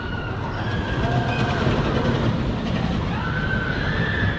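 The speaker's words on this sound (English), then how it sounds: "I finished up my day with a night ride on New Texas Giant in the back row." A loud, continuous roar of the New Texas Giant roller coaster on a back-row night ride at Six Flags over Texas, a rumbling wheel-on-track din with faint whistling tones over it, heard close throughout.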